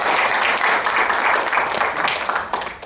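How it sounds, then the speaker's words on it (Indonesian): An audience claps for the Brownies volunteers at a public gathering, loud, dense, continuous applause close by with no talking over it. "boleh tepuk tangan untuk Brownies di sini"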